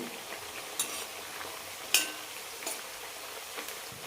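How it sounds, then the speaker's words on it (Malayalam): Jackfruit chips deep-fry over high flame in bubbling oil with a constant crackling hiss, punctuated by a few sharp metallic clinks from stirring. "ഹൈ ഫ്ലെയിമിലിട്ട് തന്നെ വറുത്തെടുക്കണം"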